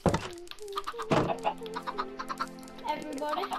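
A Minecraft chicken clucking repeatedly in short, close bursts, with a person talking over the sounds.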